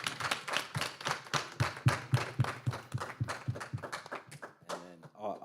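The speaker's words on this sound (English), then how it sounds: "Guys, I think that deserves a clap." An audience at an afternoon program claps in a quick, fairly even rhythm. The claps sound moderately close and continue for several seconds, then voices take over briefly at the end.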